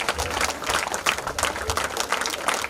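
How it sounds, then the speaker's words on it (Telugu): Continuous applause from an audience at a Telugu stage event welcoming a guest to the dais, steady dense clapping throughout with no clear voices over it. "క్లాప్స్ ఇంకెక్కువ రావాలి."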